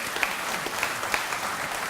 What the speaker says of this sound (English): let's give a round of applause for all the legislators and county commissioners